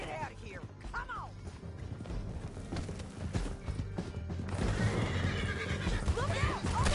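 In Red Dead Redemption 2, horses whinny in shrill rising calls over a clatter of hooves and crashing action, with shouting voices and the noise building toward the end.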